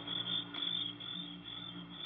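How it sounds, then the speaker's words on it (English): Crickets shrill at night, a dense, continuous high chirring with no other sound around it. "there wasn't a sound except the crickets, shrilling so loudly the noise seemed to beat inside my brain"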